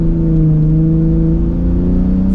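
A 2023 Ford F-150 Raptor truck accelerates, its engine revving steadily and loudly with a strong low rumble that holds throughout, heard from inside the cab with no talk.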